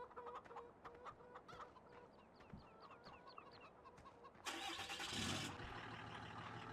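Chickens clucking in the Farming Simulator 17 video game, steady clucks and cackles at moderate level throughout, joined midway by a broad, louder mechanical engine-like roar for about a second before settling back.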